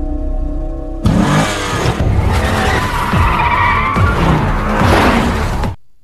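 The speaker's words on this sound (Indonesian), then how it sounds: "Aksi kejar-kejaran menggunakan mobil pun terjadi." Cars skid and rev during a movie car chase, with loud tire squeal and roaring, accelerating engines that start abruptly and keep going for several seconds before cutting off.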